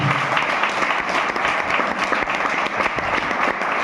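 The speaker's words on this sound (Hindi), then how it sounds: "रुपेश सर के लिए भी जोरदार ताली होनी चाहिए" Loud, dense applause from an audience at an AWPL company event in Ghazipur, steady clapping sustained throughout without a break.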